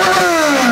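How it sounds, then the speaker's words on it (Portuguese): Yamaha XJ6 motorcycle engine held at high revs near the rev limiter, a loud, steady, close mechanical whine with tonal harmonics drifting slightly downward, and no talk over it. "Vou ter que dar uma cortada de giro."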